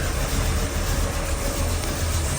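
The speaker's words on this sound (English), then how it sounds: "So let's get the car warmed up and go from there." A car's crate-motor V8 with a Holley carburetor idles while warming up, a steady low rumble close by with no talk over it.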